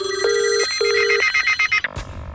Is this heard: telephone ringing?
yes